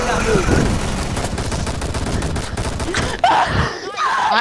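Rapid gunfire bursts from the Rainbow Six Siege video game fill the mix, loud and continuous, with players shouting and groaning over the shooting.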